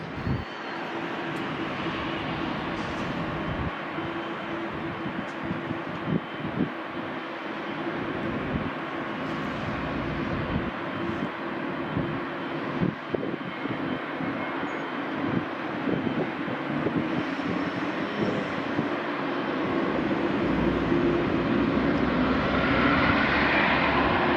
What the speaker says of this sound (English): It's an 8-year-old Dreamliner 787-9. This Boeing is headed over to Hong Kong.